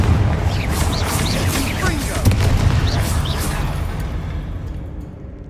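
A Confringo fire spell going off in the video game Hogwarts Legacy, a loud rumbling boom that sustains and slowly fades, with a voice calling out over it.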